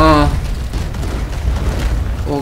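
Cannon fire from a pirate ship in the Roblox game Pirate Clash, a loud booming burst with a rumbling low-end tail that fills the clip, with a voice speaking briefly at the start and end.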